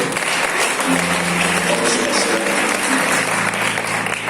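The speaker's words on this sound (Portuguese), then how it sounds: "Nós queremos dar um aplauso ao Senhor" A church congregation applauds during a service, a dense, sustained roar of clapping heard close and loud, with voices and faint tones running underneath throughout.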